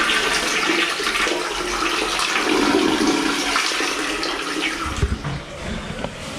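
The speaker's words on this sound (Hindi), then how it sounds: "तो चलो फिर से फ्लश करते हैं।" A toilet in a budget hotel bathroom flushes with a rushing gush of water that tapers into gurgling refill and a few thuds near the end.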